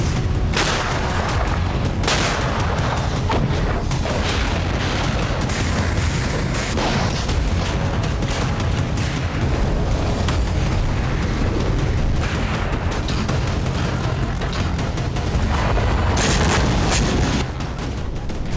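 Continuous heavy rumbling and booming from explosions and artillery fire fill the whole stretch, loud and dense, with repeated sharp blasts rising above a constant roar, and no voices.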